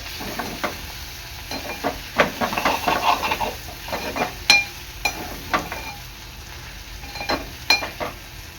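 Gavar (cluster beans) bhaji is stirred in spices in a pan for a Maharashtrian dry vegetable dish, giving a steady close sizzle broken by repeated sharp spatula scrapes and clicks.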